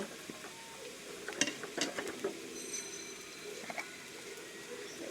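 Spice paste of ground cumin, ginger, garlic and garam masala goes into browned onions for potol dopiyaza, giving a soft steady sizzle with scattered scraping stirs and light utensil clinks against the pan, fairly quiet throughout.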